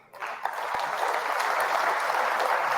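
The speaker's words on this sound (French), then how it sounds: "Alors continuez d'applaudir" Audience at a French ecology party political speech breaking into applause, a dense, steady wash of clapping from a large crowd that swells quickly and holds.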